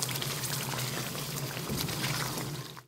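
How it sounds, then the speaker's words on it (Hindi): Chana dal mangochi are added into hot masala to fry, with a steady sizzling, bubbling hiss throughout at close range that cuts off abruptly at the end. "अब मैं इसके अंदर मंगोचियाँ डाल के अच्छे से भूनूंगी"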